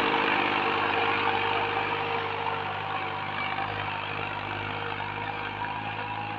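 A Massey Ferguson 7235 DI 39 HP tractor engine runs steadily nearby, a continuous low idling rumble with faint harmonic hum and no voices.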